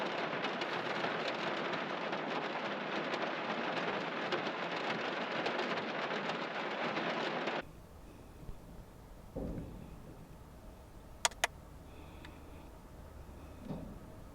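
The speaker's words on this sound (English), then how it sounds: "the good thing about rain when you're car camping" Heavy rain drums steadily and loudly on a car while car camping, then abruptly gives way to a much quieter space with a few scattered clicks and knocks.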